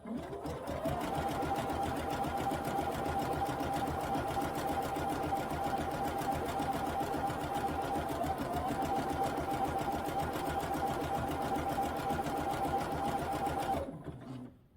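Sewing machine stitching steadily during free motion quilting, a fast even whir with a constant rattle that runs alone at moderate level and stops abruptly near the end.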